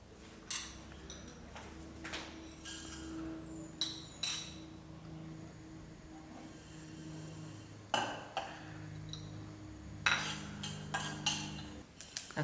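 Whole black pepper, jeera and mustard seeds dry-roasting in a pot, with scattered clinks and scrapes of a utensil and sharp pops recurring through the clip, moderately quiet and unaccompanied by speech.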